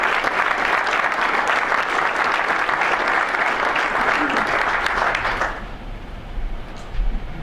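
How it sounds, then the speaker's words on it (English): Audience at a Southern California PGA annual meeting applauds steadily for about five seconds, a dense loud wash of clapping that then fades away, leaving quiet room tone with a few low bumps. "Once again, a round of applause for the 2013 SCPGA Parkour Aluminium sponsors."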